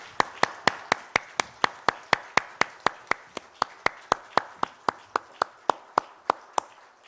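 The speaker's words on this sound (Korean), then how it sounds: "하나님께 영광의 박수를 올려드리겠습니다." A church congregation claps in a steady, evenly spaced rhythm, each clap sharp and distinct. About two claps come each second at moderate loudness, with no voices over them.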